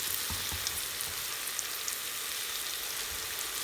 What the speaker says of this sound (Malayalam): ഞാൻ ഇച്ചിരി എണ്ണ ഒഴിച്ച് ഇച്ചിരി പെരുംജീരകം ഇട്ട് കൊടുത്തിട്ടുണ്ട്